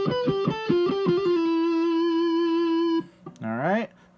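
A distorted electric guitar plays a lick from the first solo of a song: a quick run of picked notes, one long sustained note, then a bending, wavering phrase.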